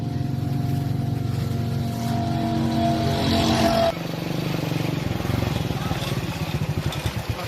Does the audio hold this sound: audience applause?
no